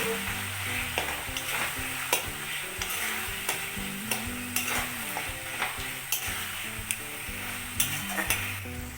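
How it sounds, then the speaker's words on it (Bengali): Chopped onion and tomato fry in a pan while a utensil stirs them, with continuous sizzling broken by regular scraping knocks against the pan, close and steady with no talking. "দেখো আমার এটা প্রায় টমেটো আর পেঁয়াজ দিয়ে ভাজা ভাজা অনেকটাই হয়ে গেছে"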